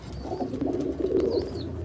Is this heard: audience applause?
no